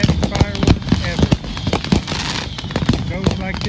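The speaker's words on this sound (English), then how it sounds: "Mustang is the place to be if you like fireworks, which are legal in Mustang, by the way." Fireworks and firecrackers crack and pop in rapid, irregular bursts on the night of July 4th in Mustang, Oklahoma, loud and close, with people talking underneath.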